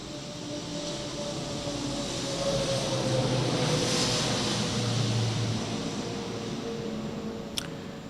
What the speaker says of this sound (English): Man, an airplane is going to pass.